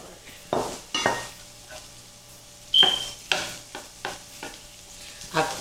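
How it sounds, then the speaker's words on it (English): Shrimp sizzling as they hit a pan of frying vegetables, with scraping spoon strokes and clinks of the pan in irregular bursts, close and fairly quiet, no talk. "The veggies are starting to turn light and color, so I'm gonna go ahead and add my shrimp."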